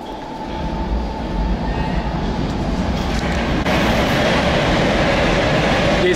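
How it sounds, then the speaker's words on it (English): A train rumbles along steadily and close by, with a loud, even roar of wheels on rails that holds for several seconds at a station stop in Brussels, Belgium. "This is our train."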